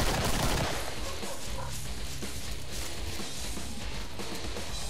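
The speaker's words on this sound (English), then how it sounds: "It's just explosions happening." Dense, continuous bursts of explosive booms and rattling fire overlap throughout, loud and chaotic, during a co-op battle in Killing Floor.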